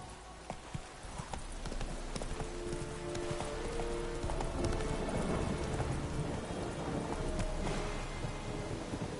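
Roach the horse galloping in The Witcher video game, steady fast hoofbeats throughout, with rain and rumbling thunder underneath.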